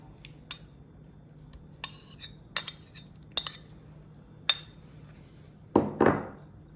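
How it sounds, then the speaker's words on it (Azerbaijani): Ingredients being added to a bowl for dough, a series of light clinks and taps of utensils against the dish, spaced irregularly, then a louder rustling pour near the end. "Bütün ərzaqları bir qaba əlavə edirik."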